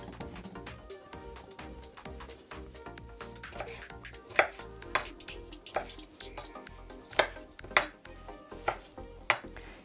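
Thawed frozen broccoli being chopped with a knife on a board, close and irregular thuds that grow sharper and more frequent toward the end, with faint dish clinks and no talking.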